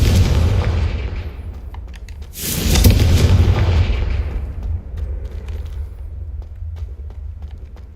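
Confringo fire-spell explosions in the Hogwarts Legacy video game, a loud deep boom bursting in mid-clip over a rumbling background, followed by a fading roar and scattered smaller crackles.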